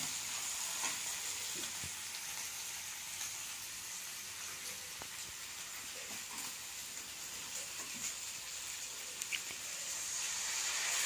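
A radish pickle with tamarind, red chilli, turmeric and jaggery cooks in a pan with a constant soft frying hiss, broken only by a few faint stirring taps.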